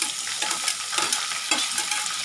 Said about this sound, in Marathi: चांगला आपण कांदा टोमॅटो आपण चांगलं शिजवून घ्यायचं